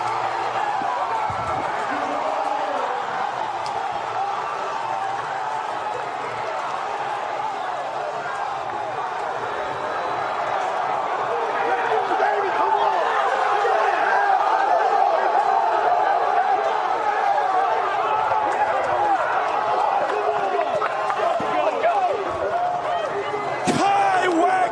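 Stadium crowd at a college baseball game roaring after a home run, a sustained dense wall of cheering and whoops heard from within the stands, with voices talking over it.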